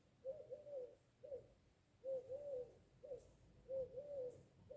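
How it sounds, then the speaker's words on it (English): A pigeon or dove coos just outside a window, soft low repeated phrases in a steady rhythm, faint and slightly distant, with no talking over it. "there's a pigeon or dove in front of my window"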